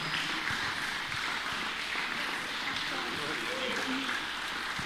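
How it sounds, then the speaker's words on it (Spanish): Congregation applause welcoming a woman evangelist at a church service, a steady broadband wash of clapping lasting throughout at moderate level, with cheering voices mixed in. "la recibimos la sierva con un fuerte aplauso al Señor Jesucristo"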